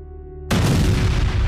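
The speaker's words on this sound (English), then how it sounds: "Boom. The explosion sent me flying." Missile explosion sound effect: a low tonal hum cut off by a sudden loud boom that rolls on as a dense, rumbling roar for the final second.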